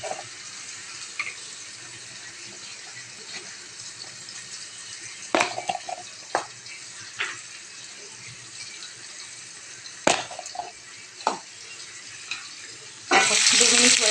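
Food frying in a pan while being stirred, giving a steady low sizzle broken by occasional sharp scrapes and clatters of the utensil, with a louder burst of hissing near the end; no one speaks.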